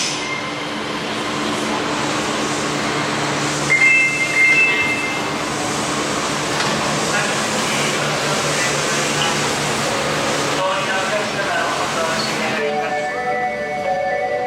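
A train rumbles through a large Japanese railway station with a steady roar and occasional squeals, while people talk in the background.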